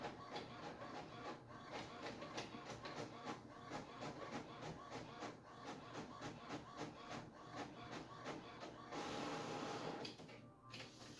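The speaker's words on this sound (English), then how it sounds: "I have the image printing now. I put it in Microsoft PowerPoint. And so it is printing out here." An inkjet printer prints an image onto DTF film, a steady mechanical whir broken into regular rhythmic passes of the print carriage, close and continuous, with a brief louder shift near the end.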